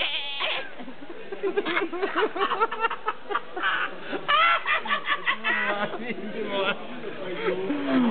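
Goats bleat repeatedly and close by, with people talking over and around the calls throughout.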